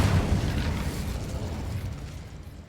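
A loud fiery blast from the Incendio fire spell in Hogwarts Legacy, a broad roaring burst that hits hard and slowly fades.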